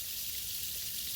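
Garden irrigation sprinklers in a Japanese garden spray water at good pressure, making a steady, faint hiss with no other sounds over a brief stretch.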